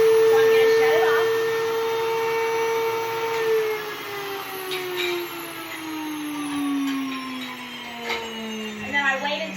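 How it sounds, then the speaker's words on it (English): An electric grain mill grinds grain into flour with a loud, steady whirring motor whine that gradually drops in pitch as the motor speed changes. Occasional clicks and rattles come through, and the hum eases toward the end. "You can hear the change in the motor speed, so I'm going to shut it off."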